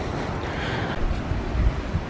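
Ocean surf at Edisto Beach, South Carolina, heard as a steady low wash of waves mixed with wind rumbling across the microphone, with no voices.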